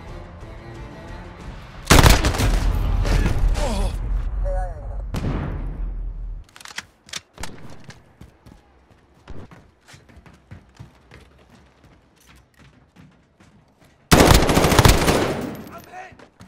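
Automatic rifle fire in the Call of Duty Modern Warfare game, during a team deathmatch: two long, loud bursts of rapid gunfire separated by scattered single shots and quieter clatter.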